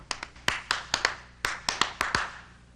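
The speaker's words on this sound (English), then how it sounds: "You can use your hands to clap" Hands clap close by in an irregular series of about a dozen sharp, crisp claps, some quick pairs, fading slightly toward the end.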